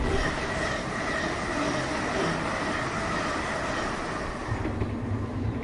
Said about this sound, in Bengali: রাত 1:12 ট্রেনটা একটা ঝাঁকুনি দিয়ে রানাঘাট জাংশনে দাঁড়ালো